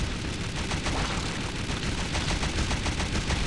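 Rapid automatic gunfire in the zombie shooter game SAS: Zombie Assault 4, a dense steady stream of shots kept fairly quiet in the mix throughout, with no talk.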